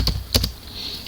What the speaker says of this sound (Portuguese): Eu vou digitar o comando sudo